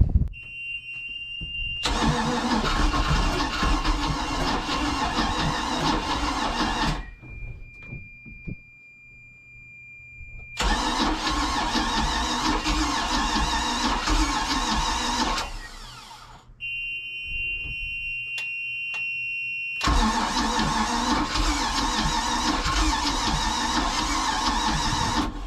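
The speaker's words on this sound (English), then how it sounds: "ready to crank this thing over and see if it's going to fire off" A 454 big block boat engine with fuel in the carburetor cranks over in three long bursts, a loud steady starter whir that churns on for several seconds at a time and stops abruptly between attempts, separated by brief quiet.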